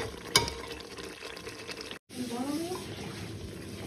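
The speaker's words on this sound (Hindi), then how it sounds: "तो इसको अच्छे से भून लेंगे।" Biryani masala with yogurt and tomato fries in a pan, a faint, soft sizzle with a sharp clink early on and a momentary gap before the sizzling resumes.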